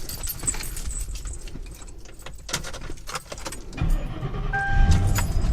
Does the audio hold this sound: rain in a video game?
no